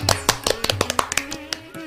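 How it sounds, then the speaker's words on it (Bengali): Sharp hand claps ring out in a quick, steady rhythm, about a dozen in under two seconds, close and fairly loud in a Bengali radio drama scene, with faint voice-like tones underneath. "মা তুমিও তালি বাজাও"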